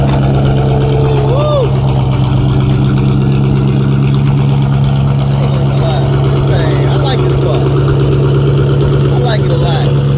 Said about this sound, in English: you remember how to start the car up